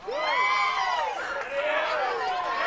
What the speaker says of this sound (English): Crowd getting excited, as well as the Houston dugout.